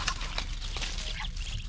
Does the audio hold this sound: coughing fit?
no